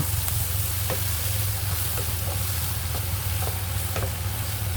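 Carrots and broccoli fry in a pan for winter-vegetable fried rice, a steady close sizzle with repeated scraping stirs every second or so, continuous and loud, no voices.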